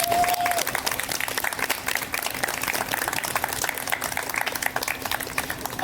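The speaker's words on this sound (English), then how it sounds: "Let's give a hand for all of our readers for our second." A crowd at a literary reading event claps for the readers: steady, dense applause from many hands that continues throughout, heard from a moderate distance in a room.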